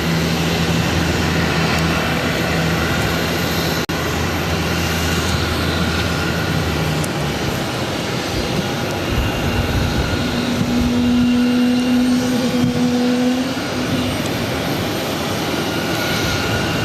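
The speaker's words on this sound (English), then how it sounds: "Taking off to San Francisco on the A321." JetBlue Airbus A321 jet taking off from Boston airport, a loud, continuous engine roar with steady tonal whine and a rising hum partway through, heard from inside the cabin with no talking.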